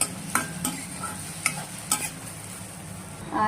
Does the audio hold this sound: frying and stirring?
yes